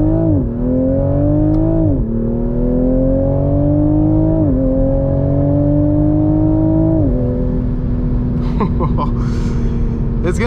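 A 2021 Toyota A91 Supra engine heard from inside, loud and droning as it climbs in pitch through gears, dropping with quick downshift blips, with a voice talking over it near the end.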